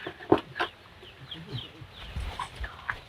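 Chickens cluck in short, scattered bursts of moderate loudness while birds are being fed, with low thuds and shuffling in between and no speech.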